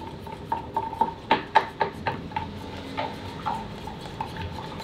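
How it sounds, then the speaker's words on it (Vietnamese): Metal spoon stirring coconut milk powder into a small amount of boiling water in a cup. It gives a quick run of bright ringing clinks against the sides, then a few slower, softer taps, close up. "Nước sôi 100 độ C để mình hòa tan cái bột cốt dừa của mình, khuấy đều ra"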